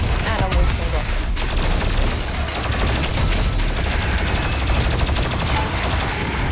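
Rapid, dense blasts of rocket fire and explosions from DOOM Eternal roar continuously at close range, loud and relentless, with a layer of gameplay noise and faint voice underneath.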